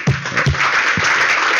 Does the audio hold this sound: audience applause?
yes